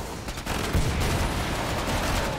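Dense, continuous gunfire from the video game Destiny 2, a loud, steady barrage of rapid shots with a brief lull near the start and no voices.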